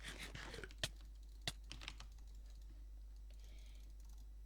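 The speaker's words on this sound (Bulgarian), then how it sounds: "аз сега jitter кликвам 9 CPS, но по принцип си цъкам с 6 до 7" Computer mouse clicked during a Minecraft PvP match, giving a few sharp, close clicks over a quiet, steady background hum.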